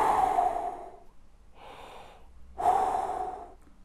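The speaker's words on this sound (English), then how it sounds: "Do the body's concert hall breath." Two deep, airy breaths drawn during a trumpet breathing drill for opening the throat, each a long loud inhale, with a softer hissy exhale between them, close up with no talking.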